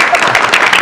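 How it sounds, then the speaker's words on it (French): Someone applauds during a studio interview, a short burst of dense clapping up close and loud, lasting under a second. "Il y a quelqu'un qui applaudit."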